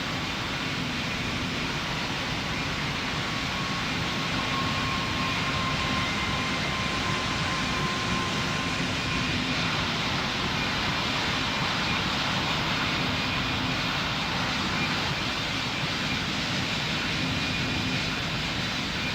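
Airplane jet engines roar steadily during takeoff in the Roblox game Pilot Training Flight Simulator, a loud, continuous, broadband rush that holds constant throughout.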